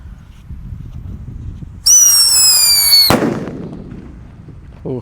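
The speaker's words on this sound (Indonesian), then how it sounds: "di sini ada mercon Whistling Thunder. Kita tes dulu yang belum dibuntel dengan kertas." A Whistling Thunder firecracker, unwrapped, gives a loud rising whistle that shrieks for about a second, then a sharp bang bursts and rumbles away, with faint crackle and a brief pop at the end.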